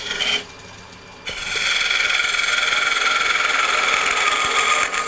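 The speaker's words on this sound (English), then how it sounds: "make about 1/4 of an inch tenon, maybe a little bit larger" A wood lathe turning a tulip blank runs with a steady motor hum while a tool cuts a tenon, giving a continuous rough scraping rasp that starts abruptly after a brief quieter moment and holds level to the end.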